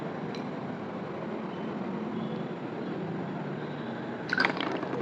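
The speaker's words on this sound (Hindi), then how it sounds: "इसमें पानी ऐड करते हैं बच्चों" Water is poured into a test tube holding a lead salt precipitate in a chemistry lab, giving a soft steady liquid wash under faint background hiss, with a brief brighter splash near the end.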